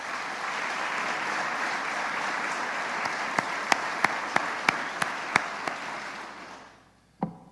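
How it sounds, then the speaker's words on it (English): An audience at a State of the City address in Buffalo City Hall applauds in a steady wash of clapping with a few sharp, close claps standing out, then fades away, followed by a single soft thump. "so please give them a round of applause"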